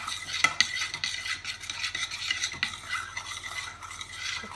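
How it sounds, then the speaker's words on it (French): Melted chocolate for langues de chat biscuits stirred in a bowl, a quiet continuous scraping and swishing with small irregular clicks of the utensil. "Après, vous mélangez bien."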